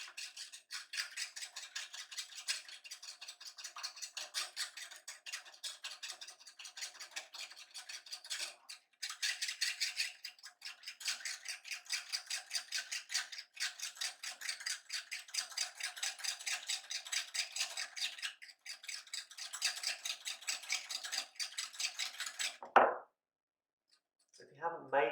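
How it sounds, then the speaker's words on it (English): Egg yolk and oil are whisked or stirred in a bowl into mayonnaise, a fast continuous rhythmic scraping and clicking that runs steadily, briefly pausing before ending with a clunk. "So we're going to give this a good mix up"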